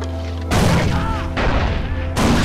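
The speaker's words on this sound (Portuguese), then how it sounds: "Deixa eu tacar uma granada pra lá" Grenade blasts in the video game Far Cry 4: three loud, booming bursts about a second apart, each ending in a rumbling tail over faint background game sound.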